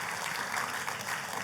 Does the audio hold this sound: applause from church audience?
yes